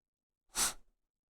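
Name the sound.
sneeze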